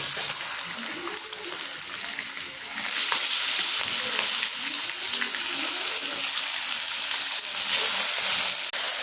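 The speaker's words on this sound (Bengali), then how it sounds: "চিকেনটাকে একটু ভেজে নেব।" Chicken added to onions frying in a pan, a loud steady sizzle that grows stronger partway through, close up, with no clear talking.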